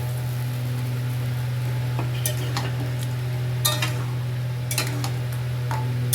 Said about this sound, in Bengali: এবার আমি পনিরগুলোকে দিয়ে দিচ্ছি